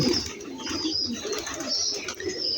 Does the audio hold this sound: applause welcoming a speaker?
no